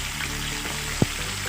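Chicken drumsticks fry in hot oil over high heat, a steady close sizzle running throughout with one brief louder pop partway through.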